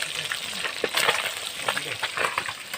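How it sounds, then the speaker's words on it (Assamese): Rohu fish frying in a pan, with a close, continuous crackling sizzle and occasional stirring scrapes, no voices. "ৰৌ মাছ এয়া ভাজি আছো"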